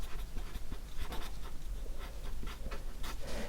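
A pen writes a list onto paper, making quick scratchy strokes in an irregular rhythm over several seconds. The sound is close and fairly quiet, and no one speaks.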